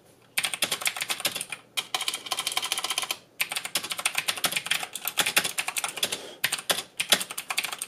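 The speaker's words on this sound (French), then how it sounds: "je vais quand même vous laisser écouter un peu à quoi ressemble l'expérience avec les Cherry MX Blue sur ce" Rapid, crisp clicky keystrokes come from a Rosewill RK-9300 mechanical keyboard with Cherry MX Blue switches, close and loud in dense bursts separated by a few short pauses, with no speech.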